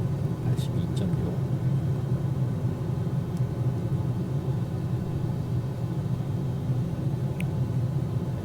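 The engine of a Cirrus SR22T G6 light aircraft in Microsoft Flight Simulator 2020 drones loudly and steadily as the throttle is pushed up with full flaps, a constant low rumble with a few faint clicks.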